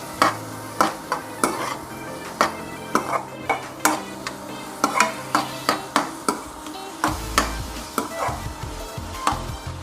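Onions frying with turmeric and salt for bread masala are stirred steadily in a pan, giving a regular series of sharp scraping strokes over a continuous sizzle, close and fairly loud, with no talking.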